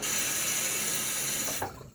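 Tap water runs steadily into a sink as more water is added to a shaving lather, a continuous close hiss that cuts off abruptly near the end, leaving faint drips and handling sounds.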